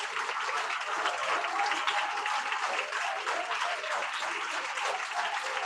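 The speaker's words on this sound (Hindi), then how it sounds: "जोरदार ताली बजाकर महिमा करो," A church congregation claps loudly and continuously at a Sunday meeting, a dense and sustained burst of applause from many hands with no break.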